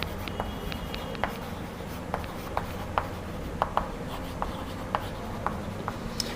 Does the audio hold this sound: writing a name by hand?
yes